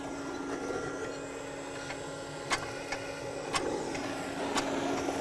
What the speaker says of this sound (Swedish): Nu har vi startat fläkten där.